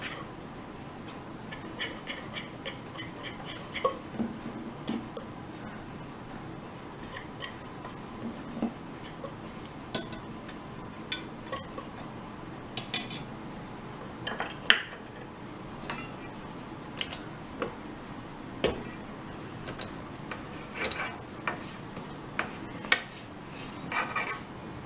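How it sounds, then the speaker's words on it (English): Spices and dry ingredients for a Linzer torte being stirred in a bowl, heard as soft repeated scraping and rubbing with scattered light ticks and clinks of a utensil against the bowl, fairly quiet throughout. "I'm going to mix this together."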